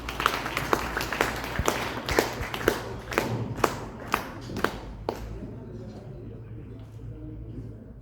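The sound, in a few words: audience applause for a speaker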